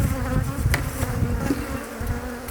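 Dense, close buzzing of many honey bees swarming over an open, queenless hive, a continuous drone with wingbeat hum and occasional louder passes near the ear.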